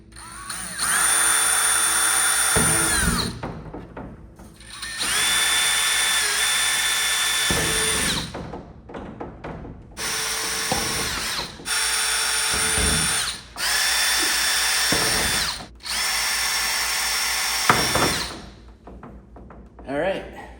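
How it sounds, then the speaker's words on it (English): Power drill boring a 5/32 inch pilot hole while assembling MAAX Cyrene corner shower wall panels, loud sustained whine in several long bursts separated by short pauses, with clunks and handling noise between runs. "I'm going to start out with a 5/32 inch to the right and drill a pilot hole"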